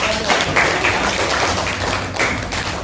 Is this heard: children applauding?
yes